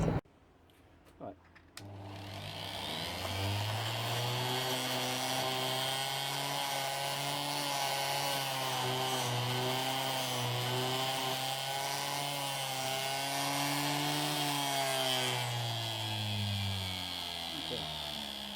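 A motor-driven wheel, such as a wire wheel, spins up after a few clicks and whines at a steady pitch against a rusty stem post from a small balance bike. It keeps up the continuous grinding drone and slows slightly near the end.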